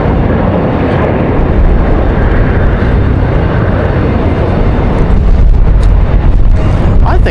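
A JetBlue airliner departing for San Juan, Puerto Rico, on a windy day, its engine roar rumbling loud and steady with gusty wind buffeting, swelling slightly toward the end.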